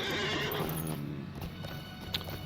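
A horse's hooves clip-clop in a steady rhythm while riding in the online game The Lord of the Rings Online (LOTRO), close and clear over a faint background, with no one speaking.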